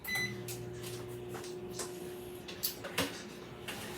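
A microwave oven runs with a steady electrical hum while melting white chocolate in a bowl. A few light clicks and knocks sound close by, and no one speaks.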